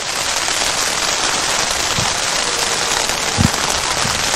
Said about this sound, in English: Just got to hope that this rain shower passes through quickly and doesn't ruin the field.